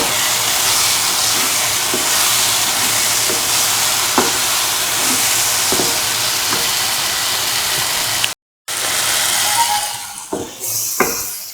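Vermicelli sauteing in a pan for a sweet banana and coconut pasta, a loud continuous sizzle with occasional scraping stir clicks, briefly cutting out before fainter stirring resumes.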